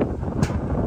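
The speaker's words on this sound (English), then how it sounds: "This is how windy it is." Steady, roaring wind buffets the microphone with broadband rumble, gusting briefly louder near the middle; no other sounds stand out.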